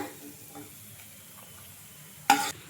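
Raisins and nuts fry in a kadai with a soft, low sizzle, then a sharp, louder burst of hissing and scraping near the end as they are stirred or moved.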